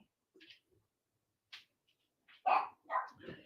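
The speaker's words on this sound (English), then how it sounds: "She probably wants to bark at the kids." A pet dog kept indoors in a home kitchen gives a few short barks and yips in a quick cluster near the end, after faint scattered whimpers and small noises, fairly close and without talk over it.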